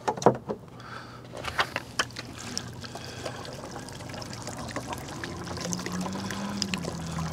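Liquid pours steadily through an Eco-Loop screw-on funnel into a container being topped off, a continuous close trickle and gurgle after a few initial knocks.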